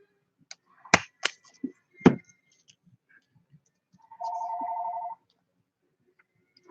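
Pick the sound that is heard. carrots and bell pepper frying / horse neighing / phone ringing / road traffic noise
phone ringing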